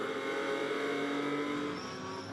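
GT4 race cars roar past at Hockenheim, a loud, sustained, full engine blare from close by that holds steady for the whole stretch, with a faint rise in pitch toward the end.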